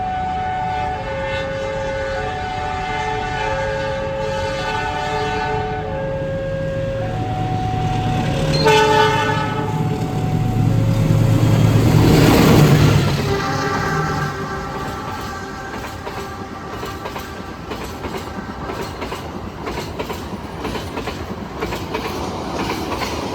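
The Pandalungan KA 33 passenger train, bound from Gambir to Jember, passes a stopped commuter train at Gedangan station, its horn sounding in long tones as the wheel rumble swells loud and then fades.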